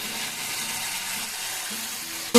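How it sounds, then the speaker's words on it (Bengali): Rice with turmeric and sugar frying in a pan gives a steady, close sizzle with faint stirring scrapes throughout, ending in a brief sharp clatter. "এবার এগুলোকে আবার একটু ভালো ভেজে নেবো।"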